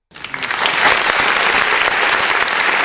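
Hearty applause from a crowd starts abruptly and holds steady at full strength, dense clapping with no talk over it.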